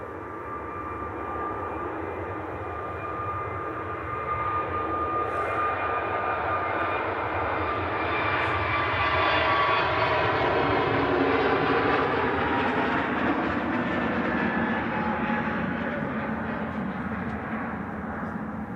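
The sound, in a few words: Pegasus airliner rolling for takeoff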